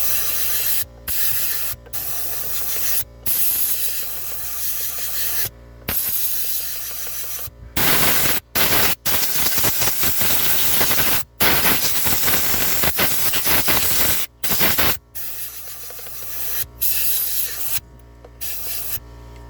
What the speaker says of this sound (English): put a pointed blow nozzle on it, and I'm going to try to blow any more junk that I can out of there